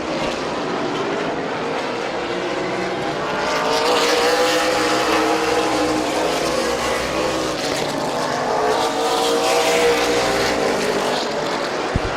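Race cars run nose to tail at Midvale Speedway, a loud, steady blend of engines that swells and fades as the pack sweeps past on the track.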